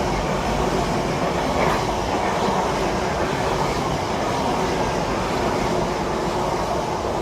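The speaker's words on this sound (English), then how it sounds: "I think I hear a train" A train rolls past at Teignmouth, a loud, steady rumble with rattling wheels and rail noise sustained the whole time, close by and continuous.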